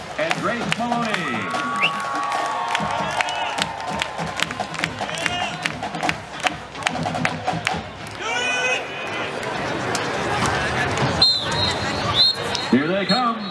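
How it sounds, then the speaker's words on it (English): A crowd at a high school football pregame cheers and claps for the West Pride Marching Band, Color Guard, and Dance Team as they take the field, a steady roar of voices and applause with shouts rising throughout. "Let's stand up and cheer for your West Pride Marching Band, Color Guard, and Dance Team."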